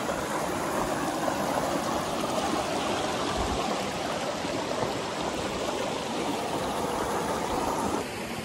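A river stream flowing during a crossing, a loud, steady rushing of water heard up close, continuous and unbroken for the whole stretch with no talk.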